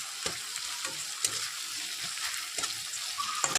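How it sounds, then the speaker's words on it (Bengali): Onion and tomato fry in hot oil for a fish curry, a close, quiet, continuous sizzle broken by a few soft thumps of stirring. "তেল গরম হয়ে গেছে, পেঁয়াজ ভেজে টমেটো দিয়ে দিয়েছি"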